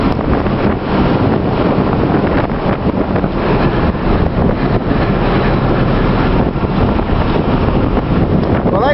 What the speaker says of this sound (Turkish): Rüzgar var, yağmur var, fırtına var